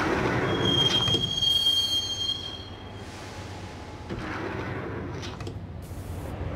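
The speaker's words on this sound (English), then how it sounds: "The train doors had already shut behind me, and I was in for the ride." A subway train rides along the tracks in the Max Payne video game, a loud steady rumble with metallic wheel squeal early on, then continuing rolling clatter with no talking.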